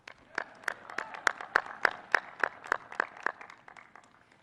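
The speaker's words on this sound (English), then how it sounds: "Another round of applause, please" Regular, rhythmic clapping at a U.S. Air Force Academy graduation ceremony, with about a dozen crisp, even beats that build and then fade out. It sounds like a small group in the open rather than a big crowd, and no speech is heard.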